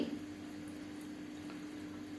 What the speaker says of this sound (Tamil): ஒரு அரை டம்ளர் கிட்ட தண்ணி ஊற்றி குறுக்கி கொடுக்கணும்.